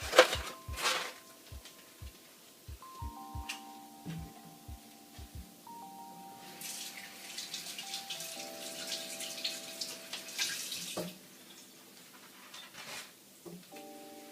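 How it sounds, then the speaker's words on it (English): Tap water runs into a kitchen sink while hands are washed partway through baking a raspberry tres leches cake, a soft steady splash with a few clicks at the start, close and fairly quiet, with no talking. "Let me wash my hand off here."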